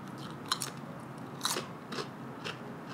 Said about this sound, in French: Au premier abord, quand on croque dans la chips, j'ai un peu cette impression de gras.